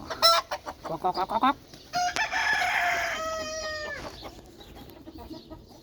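Chickens cluck and cackle close by outdoors, a rooster-like drawn-out call rising among short repeated clucks, in a farmyard setting where pigeons and hens are being fed grain.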